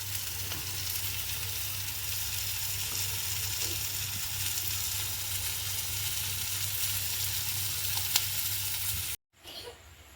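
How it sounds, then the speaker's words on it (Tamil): Egg devil frying in a pan as sauce is stirred in, a loud continuous sizzle with occasional stirring scrapes, cutting off abruptly near the end. "கிளறி விட்டுட்டு சோஸ் சேர்க்க போகிறோம்"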